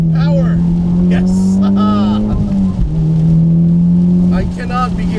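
A modified Mitsubishi Evo X on a wet racetrack, its engine droning loud and close with a steady tone that dips briefly as the revs change, then climbs again, with short bursts of tyre and spray noise over the top.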